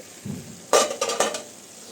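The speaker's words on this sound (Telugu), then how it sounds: "మూత తీద్దామండి." The lid comes off a pan of ridge gourd and prawn curry cooking on the stove. A soft thud gives way to a sharp metallic clatter and a few rattling knocks, followed by a low sizzle.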